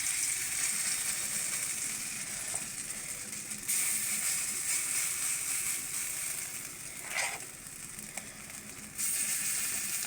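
Khesari lentil fritters (bora) deep-frying in oil give a steady soft hiss and sizzle, quiet and continuous, with a few faint clinks and brief bursts.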